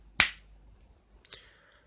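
One crisp finger snap, close and clear in a quiet room, then a second softer snap about a second later.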